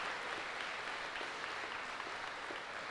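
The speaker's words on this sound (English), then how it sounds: "Let me just applaud you as well." Steady applause from a commencement audience honoring first-generation college graduates, a continuous even roar of many hands clapping in a large hall with no voices over it.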